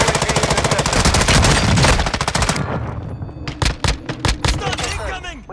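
Rapid automatic gunfire in Call of Duty Warzone 2.0, a dense sustained burst for the first couple of seconds, then scattered single and short-burst shots with some game chatter mixed in.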